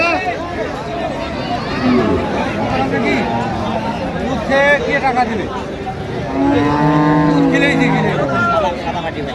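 Cattle, cows and calves, moo repeatedly in long, deep calls, near and loud, amid the chatter of a busy crowd at a cattle market in Jamalpur, with people talking throughout.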